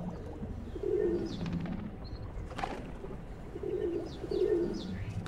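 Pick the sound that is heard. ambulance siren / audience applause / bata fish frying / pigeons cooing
pigeons cooing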